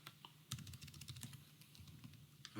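Keys clatter in quick, uneven bursts as someone types on a computer keyboard while entering database records, close and clear with no talking over it.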